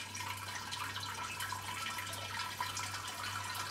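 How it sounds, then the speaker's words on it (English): Water is poured slowly over a grain bag to rinse out leftover sugars during a brew-in-a-bag home brew sparge, making a soft, steady trickle and splash with a low hum beneath and no talk. "Just pour this over, and the reason why we do this is to rinse your grain bag out"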